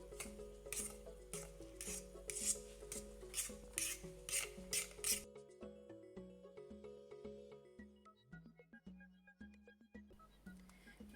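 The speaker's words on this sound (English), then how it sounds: "Next we will mix the ingredients." Milk and sugar are stirred for banana fritter batter, giving a run of rhythmic scraping strokes against a bowl over background music. The stirring stops halfway through and the music carries on alone.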